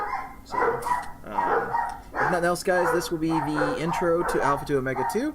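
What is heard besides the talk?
dog barking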